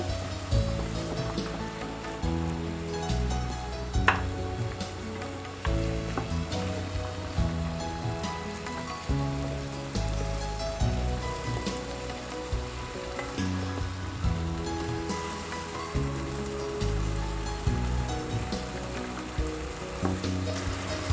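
Lamb curry fries in a pan with spices while being stirred steadily, a sustained sputtering sizzle with repeated stirring swells and scrapes, no voices over it.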